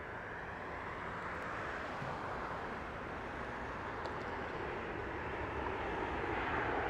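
A Southwest Airlines Boeing 737 airliner at Las Vegas Harry Reid International Airport gives off a steady, broad engine roar that holds level throughout and swells slightly toward the end, with no voices.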